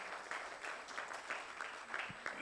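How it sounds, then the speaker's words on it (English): Faint, distant audience clapping at a cybersecurity conference, a soft rhythmic patter of hands heard from afar in a large room. "Can you clap yourself, please, everyone?"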